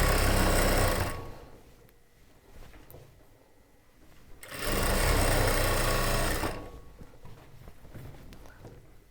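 A sewing machine stitches the hem of a churidar top in two loud bursts of steady running, one early and one in the middle, with quieter handling of the fabric between and after them.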